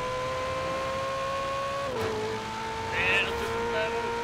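Porsche 911 GT3 RS engine at full throttle in Forza Horizon 4, a steady high whine that dips at a gear change and rises again, with voices talking over it.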